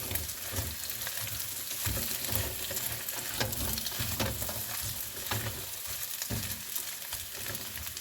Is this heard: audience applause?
no